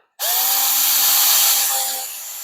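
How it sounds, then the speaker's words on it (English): A power drill drills through metal on a 1975 Plymouth Duster's clutch pedal assembly, whining up loud and steady, its motor holding a constant pitch for a couple of seconds before easing off slightly. "I can drill that through there"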